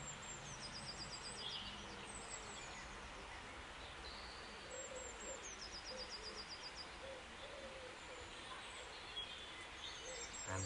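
Birds singing outdoors during a home workout, faint repeated chirping and trilling phrases at a distance over a soft, steady breezy background.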